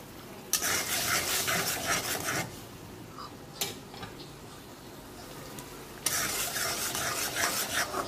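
Onion, green chili and tomato paste frying in a pan, heard as two loud bursts of scraping, rasping stirring with a quieter simmering hiss and a brief clatter between them; no talking.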